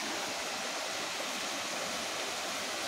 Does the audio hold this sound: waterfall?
yes